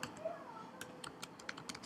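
Keys tap on a computer keyboard in a quick, light, irregular run of clicks, faint and close, over a soft background hum.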